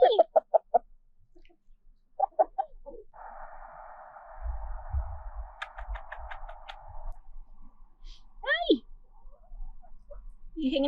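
Chickens clucking in short, separate bursts, close by, with a rising squawk-like call near the end; a low mechanical hum and a brief buzzing noise sit between the calls, and a voice speaks in places.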